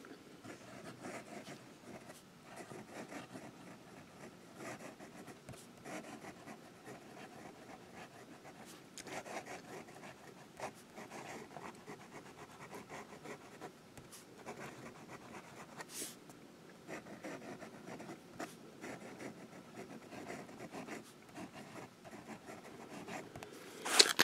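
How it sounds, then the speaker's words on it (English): A Noodler's Ahab flex-nib fountain pen scratches across paper in soft, faint, continuous strokes with small taps and pauses, a quiet close-up scribbling that runs for about twenty-four seconds. "Now I'll do some writing."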